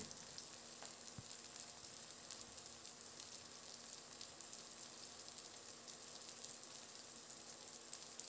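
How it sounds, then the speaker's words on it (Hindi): Steady, faint sizzling of spring onion tempering frying in hot oil in a pan, a constant crackling hiss with no talking. "पीछे का पार्ट हमने काटा था बस उसी का हम तड़का इसमें दे देंगे"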